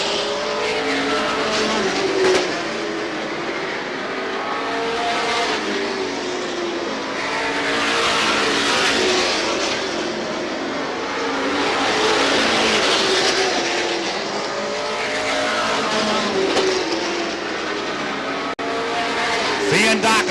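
Race cars roaring steadily around an oval at Star Speedway in 1990, engine noise rising and falling as the pack passes, with tire squeal and an announcer talking over it throughout.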